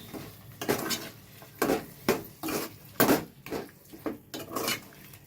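Chilli powder is stirred into chicken curry in a pan, producing a run of close, uneven scraping and clanking strokes of a spoon against the metal, with no talking.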